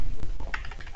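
Rapid keystrokes tap on a computer keyboard with a faulty shift key, a quick close run of light clicks over about a second.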